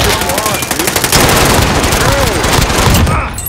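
Rapid bursts of automatic gunfire from a multiplayer video game shooter crackle loud and close throughout, with shouted player voices layered over the shooting.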